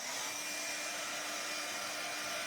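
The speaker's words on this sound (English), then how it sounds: "Still too wet. All right, I'm gonna have to pull out my dryer" Handheld hair dryer blowing steadily on a wet art journal page, a loud continuous whoosh with a faint motor whine, running alone without pause.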